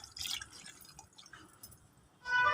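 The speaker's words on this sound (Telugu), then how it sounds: "ఒక 1/2 లీటర్ వాటర్ పోసేస్తున్నానండి." About half a litre of water is poured into a bowl of soaking tamarind: soft drips in a quiet kitchen, then a loud close splashing pour at the very end.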